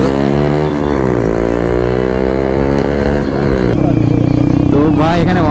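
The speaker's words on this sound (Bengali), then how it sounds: "खतरनाक बैकफायर" Bajaj Pulsar 150 motorcycle with an aftermarket exhaust revving loudly and steadily close by, engine tone rising and falling, with a sharper burst of popping crackle toward the end and background voices.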